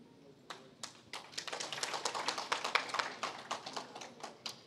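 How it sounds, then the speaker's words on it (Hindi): A crowd clapping hands during a religious address in Vijayawada, scattered sharp claps building into a brisk, uneven round of applause that stays fairly close and moderately loud before thinning out. "ताली बजा रहे हैं लोग"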